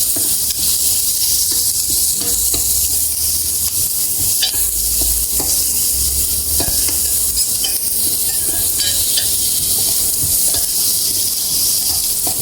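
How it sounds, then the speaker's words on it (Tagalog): Onions sauté in a pan for chicken adobo with a loud, continuous sizzle and frequent stirring scrapes and clicks all the way through. "Niluto na po yung sibuyas."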